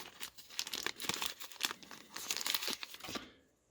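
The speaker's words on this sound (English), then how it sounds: "everything is in a small little tiny Ziploc bag" Small plastic Ziploc bag holding a 700 mAh LiPo battery and clips for a mini RC crawler, handled up close with bursts of crisp crinkling and rustling over about three seconds, no talking, trailing off into quiet.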